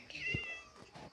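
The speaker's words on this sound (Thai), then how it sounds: "แมว" A cat in the video game Minecraft gives one short, fairly quiet meow with a brief thump under it, followed by faint game ambience.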